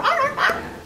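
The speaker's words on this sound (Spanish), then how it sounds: "Son sonidos de perrito bebé." A FurReal Friends Newborn toy puppy gives two short, high, whimpering baby-dog yips in quick succession, close and clear with no talking.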